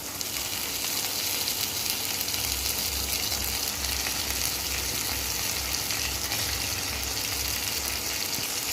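Pabda fish fry in hot spiced oil in a pan, giving a steady, close sizzle that holds throughout, with soft low rhythmic thumps underneath and no talking.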